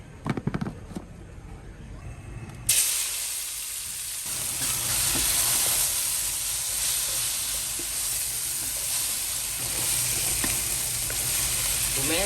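Fermented soybean tauco sambal goes into hot oil with a sudden loud sizzle that settles into a steady close frying hiss, with a few stirring clicks and no talking.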